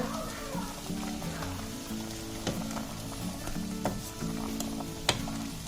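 A pot of vegetable sambar bubbling and simmering steadily, soft popping and sizzling with a few louder pops, no voices.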